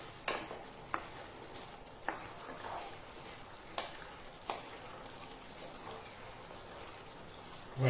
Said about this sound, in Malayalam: നന്നായി ഇളക്കുക.